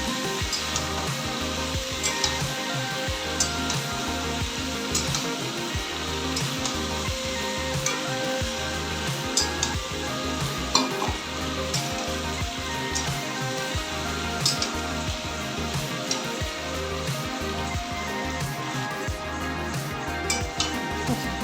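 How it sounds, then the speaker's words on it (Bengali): Chopped tomato, green chili and ginger sauté in a pan for potato curry, giving a steady, even sizzle with occasional light clinks of a spoon against the pan, continuous and close. "কাঁচা লঙ্কা আর আদা দুটোই এইভাবেই কুচিয়ে দেবেন আর তার সাথে টমেটো সেটাও কুচি দিয়ে দিলাম ব্যাস এবার এটাকে ভালো করে একটু কষিয়ে নিতে হবে"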